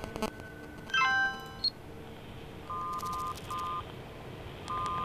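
Short electronic tone notifications for an incoming SMS in the game Dark Fall: a quick descending chime near the start, then three brief repeated beeps in a row and one more at the end, crisp and moderately loud over quiet ambience.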